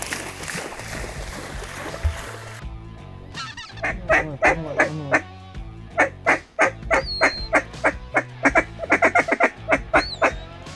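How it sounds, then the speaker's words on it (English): Many geese flying downwind in a hard wind honk in a loud, ragged chorus, calls overlapping and pulsing close by after a stretch of wind-blown rumble. "All these geese are coming downwind."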